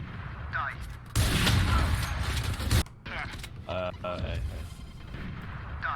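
Grenade blasts and gunfire in the video game Valorant give a long, loud, rumbling explosion lasting over a second, followed by sharper bursts and clattering shots, with game effects and chatter around them.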